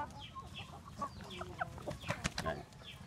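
Chickens cluck while eating, a quick cluster of short calls and pecking taps close by, fairly soft, with a faint voice briefly underneath.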